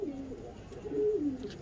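A golden pigeon gives a short, close cooing call, a low rolling coo that swells toward the middle and fades out at the end.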